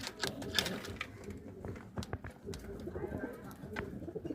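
Yellow pigeons in a breeding loft coo softly and repeatedly at close range, with scattered rustling and small knocks through the clip.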